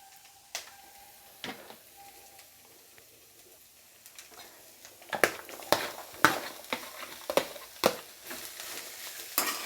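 Onions frying lightly in a pan for a beetroot fry, a soft low sizzle at first, then sharp stirring scrapes and knocks against the pan coming repeatedly in the second half.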